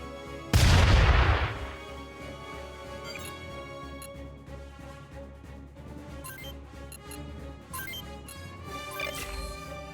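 Weapon fire from the mech strategy game Front Mission 2, opening with one loud, close blast that rings out and decays, followed by softer scattered impacts and rumbling under a quiet background.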